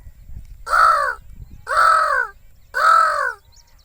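A person imitates a crow, giving three loud, harsh caws evenly spaced about a second apart, close and otherwise quiet between calls.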